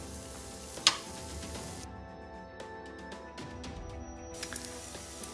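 Green beans sautéing with sun-dried tomatoes in their oil, a soft, low crackle and sizzle with a sharp clink near the start and scattered small spatters, fairly quiet overall.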